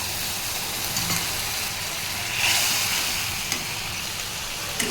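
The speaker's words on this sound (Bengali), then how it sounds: "ভালোভাবে আমি পোস্তটা কষিয়ে নিলাম" Ground poppy seed paste mixed with chili powder sizzles and fries in a pan. The crackling hiss is close and constant, with a brief swell in the middle and faint stirring scrapes.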